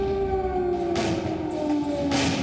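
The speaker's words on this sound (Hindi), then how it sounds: "सायरन बजाकर लोगों को किया जा रहा है अलर्ट।" Air raid sirens sound over wartime Kyiv, a steady wailing tone that slowly falls in pitch, moderately distant with a faint background rumble.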